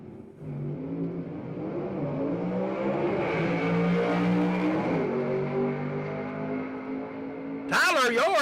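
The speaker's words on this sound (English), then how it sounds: "Got him a heck of a competitor right here in this Camaro of Eddie Willis" Camaro drag race car at Kilkare Dragway in Xenia, Ohio, a Southeast Gassers event, its engine droning and revving steadily throughout under an announcer's talk, with a sharp louder burst near the end.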